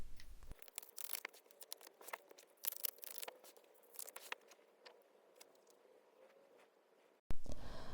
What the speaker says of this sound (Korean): 카드 먼저 뽑고 리딩 해보도록 할게요.